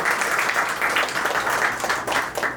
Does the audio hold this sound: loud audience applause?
yes